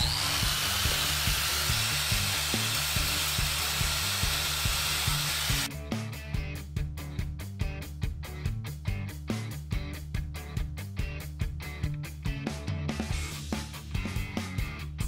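A power tool polishes a turban shell (night-glow turban), first a steady loud hiss of grinding, then a rapid rhythmic buzzing chatter as the bit works the shell surface, close and continuous.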